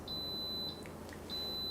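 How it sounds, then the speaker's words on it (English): An Instant Pot pressure cooker signals it is done with a series of faint, thin electronic beeps, two short pulses then another, over low room hum. "Okay, we're beeping."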